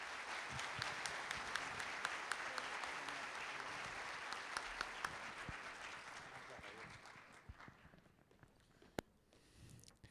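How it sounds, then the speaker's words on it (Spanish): Applause from the audience at a logistics managers' conference in Cali, dense and steady at first, then thinning into scattered individual claps as it fades out toward the end. "Nuevamente les pido un aplauso"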